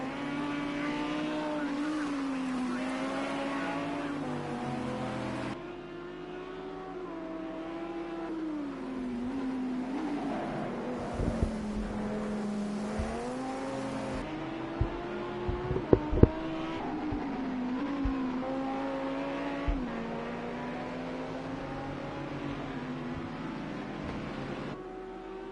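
GT3 race cars lapping the Spa circuit, several engines droning and rising and falling through gear changes as the cars pass, with occasional sharp clicks and pops.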